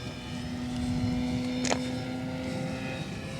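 An FMS Pitts 1400mm RC biplane flies slowly overhead, its electric motor giving a steady, moderately distant whine with a constant tone. A brief rushing swell comes midway as it passes.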